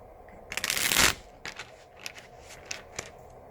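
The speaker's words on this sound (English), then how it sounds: "I'm gonna shuffle with the intention that these are for pile 1" Tarot cards being shuffled by hand: one loud riffling burst followed by several softer taps and flicks, close and alone.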